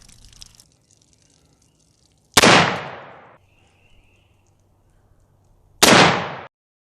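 Two loud, close shots from a snub nose revolver fired into a pork butt crack a few seconds apart, each followed by a short decaying echo, with quiet in between.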